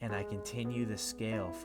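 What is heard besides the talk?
None of the usual background noises is heard.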